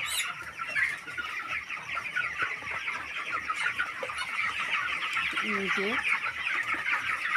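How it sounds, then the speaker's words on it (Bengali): Chickens clucking steadily in a poultry farm shed, a dense chorus of close clucks and chatter with occasional louder calls, a voice speaking briefly over them. "এটা আমাদের ফার্ম, দেখো, পোলট্রির ফার্ম"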